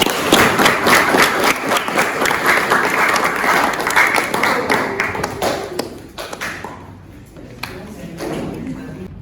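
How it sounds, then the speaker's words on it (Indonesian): A vocational school class applauds a student group after their presentation, dense clapping from many hands that thins and fades out after several seconds, followed by quieter room sounds. "kita beri tepuk tangan untuk kelompok 4"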